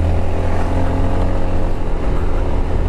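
A Honda ADV350 scooter engine droning steadily while riding uphill, a loud, even, close-up hum mixed with wind rush that holds constant without breaks.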